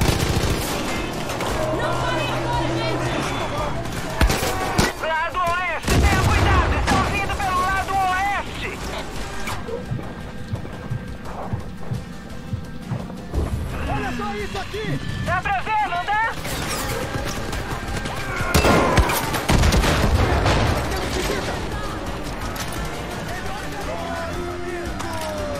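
Gunfire and explosions in the video game Far Cry 5 on PS4: loud shots, mechanical clatter and several heavy blasts, with voices talking over the action.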